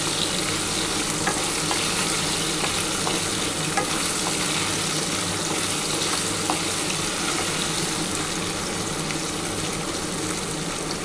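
Potatoes fried until reddish sizzle loudly and steadily in hot oil as spice paste is stirred in, a dense continuous crackle with no talk.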